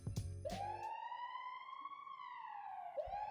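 A siren sound effect, a single loud rising and falling electronic wail that sweeps up, holds and drops, with short sharp bursts at the start and a new rise at the end.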